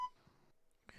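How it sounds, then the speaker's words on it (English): A single faint electronic beep like a hospital monitor tone sounds at the very start, then near silence follows before a short burst of noise at the end. "That does sound like a hospital beep."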